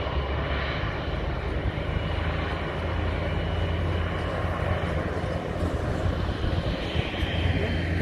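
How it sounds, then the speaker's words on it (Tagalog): A steady, loud roar of a large airliner's jet engines at Vienna International Airport holds throughout with a constant low hum, sustained and unbroken, with no clear speech. "Napakalaking eroplano yun."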